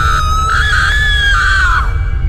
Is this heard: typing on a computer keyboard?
no